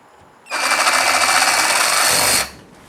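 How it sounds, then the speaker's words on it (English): A high-speed power tool with a brake, run on a worktop, spins up to a loud, steady high-pitched whine at high revs, holds it for about two seconds, then cuts off abruptly. "these tools are going at speeds which are beyond what we can think of. That's why there's such a high whine."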